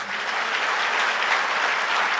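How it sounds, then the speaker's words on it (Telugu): Audience applause at a church sermon: a dense, steady wash of many hands clapping together, loud and continuous from start to finish, with no voices over it. "అందుకు కొట్టండి చప్పట్లు."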